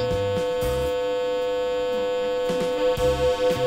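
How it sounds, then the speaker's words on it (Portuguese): Two steady pure tones at 100 Hz and 101 Hz sound together, producing a slow beating that swells and fades about once per second, loud and continuous with no voice. "Agora eu vou colocar um som aqui de 101 Hz."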